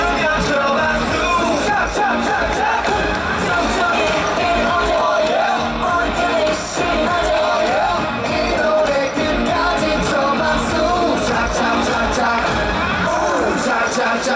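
A large concert crowd screams, yells and cheers continuously at a show, a dense, loud wall of voices with whoops and shouts rising throughout, apparently with music underneath.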